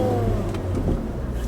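A learner car's engine revs steadily under a driving lesson on a slight hill, a loud, continuous close-up drone with the clutch coming up too fast, with no speech over it.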